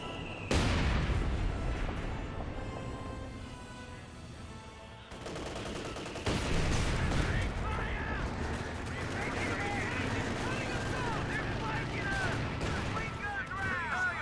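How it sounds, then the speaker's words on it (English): In Age of Empires IV, a pair of mortars pounds a machine gun position with repeated booming shots and crackling gunfire, loud and layered, while a commentator talks over the battle. "Double mortars are hitting that MG."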